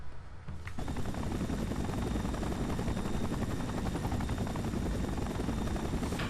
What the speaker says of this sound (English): I'm guessing that chopper is full of ninjas